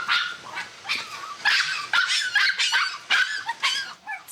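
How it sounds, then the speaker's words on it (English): Several dogs at a poolside doggy house bark and yip in quick, overlapping bursts, loud and close, with no talk over them. "I want to say bye to the dogs."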